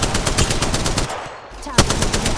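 Rapid automatic gunfire in the Apex Legends battle royale game, loud and close, with dense repeated bursts, a brief lull in the middle, and a sharp shot near the end.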